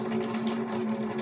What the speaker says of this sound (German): Jetzt fließt Wasser durch.